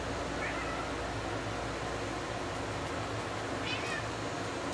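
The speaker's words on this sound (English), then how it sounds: "Do you guys hear Turbo? It's meowing so loud." A pet cat named Turbo meowing: two faint, short meows, one early and one near the end, heard well in the background under a steady noisy hiss.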